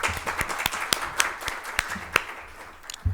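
Audience applause at a business leadership panel in Kuwait, sparse and fairly quiet, with distinct individual claps standing out in an uneven rhythm over a soft background patter.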